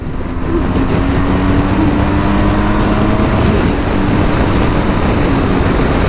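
A BMW GS motorbike riding at speed just after a service, heard as a constant loud engine drone with heavy wind roar buffeting the microphone throughout, with no voices.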